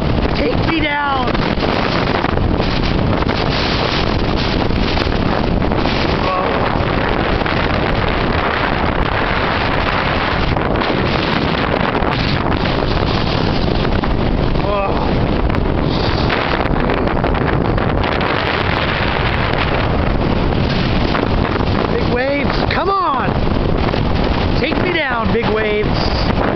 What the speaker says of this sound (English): Come on, big waves! Take me down!